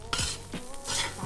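Onion, ginger and lemongrass sizzle in a pan for Malaysian nasi kerabu sambal, with a few quick scraping stirs close up and no talk.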